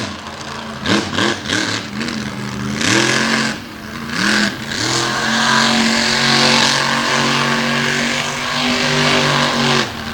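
Race truck at an All Star Championship event pulling a slap wheelie with its battered tailgate dragging on the ground, engine roaring and revving in bursts before settling into a loud sustained drone.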